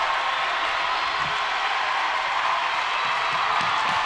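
Basketball crowd during a timeout in a school game, a broad steady roar of cheering and shouting that holds at a loud, even level throughout with no clear individual voices.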